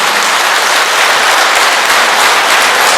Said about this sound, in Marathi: पत्नी ह्या डोनरसाठी अशाच जोरात टाळ्या वाजवा,